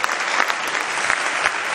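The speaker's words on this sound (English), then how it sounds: "Keep clapping." An audience claps at a Save the Children centenary celebration in Nigeria, a dense, even burst of applause from a crowd, close and loud across the whole moment.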